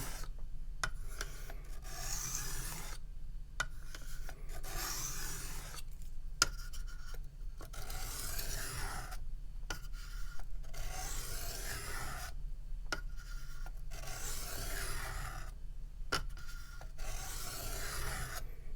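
A QSP D2 Penguin knife blade is drawn along a strop loaded with diamond compound, making steady rhythmic rasping strokes with short pauses between passes, close and fairly quiet, with no talking.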